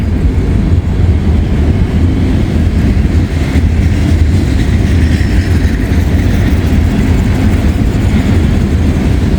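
A freight train rolls past at close range, a Southern Pacific auto rack car built in 1973 among its cars. The loud rumble is steady and continuous throughout, with no voices.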